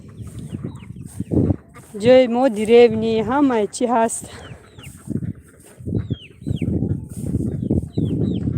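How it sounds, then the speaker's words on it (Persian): Chickens cluck in a farmyard where ducks are also kept, with a burst of throaty fowl calls in the middle, heard under and between people talking nearby. "مرغابی داره، مرغ داره"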